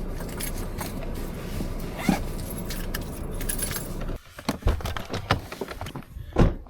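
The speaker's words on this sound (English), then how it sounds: "Need some keys to get in there." Keys jangle close by while someone unlocks a snowy photo studio door: soft rustling and a muffled background rumble at first, then several sharp metallic jingles and clinks.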